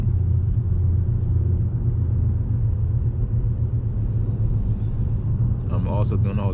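A Honda car rolls along the road with a low, steady engine and tyre rumble dominating, while someone talks over it and a brief clatter rises near the end.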